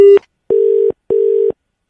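A telephone disconnect tone after a call is hung up: one clipped beep followed by two steady, evenly spaced electronic tones, loud and clear with nothing else around them.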